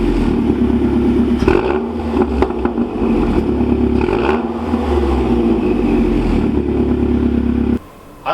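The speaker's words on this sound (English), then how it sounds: "I'll get a start up, maybe a couple revs" A 2013 Mazdaspeed 3 hatchback tuned to 300 wheel horsepower idles loudly close by, with a couple of rising and falling revs before the engine cuts off abruptly near the end.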